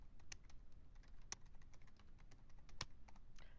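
Keys on a computer keyboard clatter in a quick, irregular run of close taps as text goes into a spreadsheet, with a few sharper clicks among softer ones over quiet room noise.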